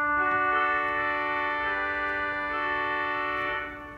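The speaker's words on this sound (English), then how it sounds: "I have a nice 8-foot tuba." Sustained chord from the 8-foot tuba reed stop of an Austin pipe organ, a powerful brassy reed tone held steadily for several seconds, then tapering off at the end, with no voices.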